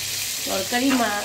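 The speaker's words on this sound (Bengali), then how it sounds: "আমি মাছটা ভেজে ফেলছি। এই মাছের তেলেই আমি পেঁয়াজগুলো দিয়ে দেব।" Rohu fish fries in oil with onions added, giving a loud, close sizzle that swells briefly with a stir near the end.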